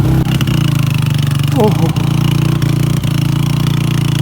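Suzuki motorbike engine chugging steadily while riding a dangerous mountain road, a loud close putter with a few sharp knocks, and a man's brief exclamation over it.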